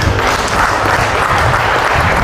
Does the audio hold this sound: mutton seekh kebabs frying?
no